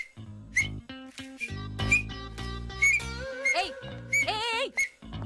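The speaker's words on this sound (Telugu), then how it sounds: "ఇప్పుడు విజిల్." A person whistles a wavering, melodic tune in short phrases with pauses, some notes sliding and trilling, close and fairly loud, over low background sounds.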